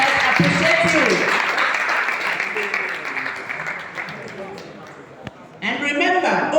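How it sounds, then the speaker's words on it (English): A school debate audience claps for the first runners-up, Government Secondary School, Owerri: loud, sustained applause with voices mixed in, tapering off briefly before another burst. "A round of applause for them"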